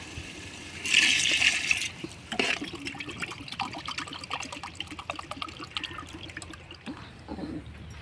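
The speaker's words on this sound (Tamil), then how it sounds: "அதுக்கப்புறம் வந்து நம்ம தேவையான அளவு தண்ணி ஊற்றிக்கலாம்." Water poured into a pot while preparing dum biryani, a strong splashing gush starting at about one second and easing into a steady trickle and bubbling that runs to the end, with no talk.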